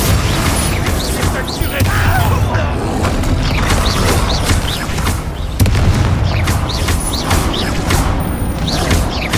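Repeated Confringo fire-spell blasts in the Hogwarts Legacy video game, loud booms and bursts layered over dense combat noise, with a voice speaking over the fighting.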